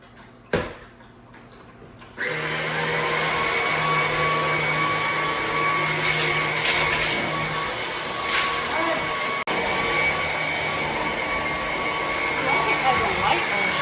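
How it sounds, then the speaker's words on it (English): A vacuum cleaner switches on after a brief quiet moment and runs steadily with a loud, even whine and roar, while people talk faintly beneath it. "plug this one in, give this one to her and see how she likes her new vacuum"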